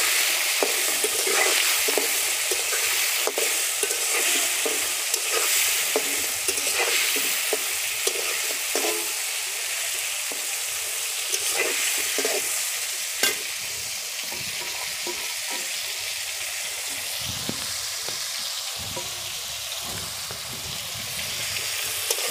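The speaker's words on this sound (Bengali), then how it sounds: "এবারে আমি চিংড়ি মাছগুলো দিয়ে দেব তেলের ভিতরে" Prawns frying in hot oil in a pan, a steady close crackling sizzle with stirring scrapes running throughout, no talking.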